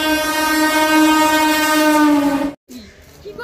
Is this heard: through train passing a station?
yes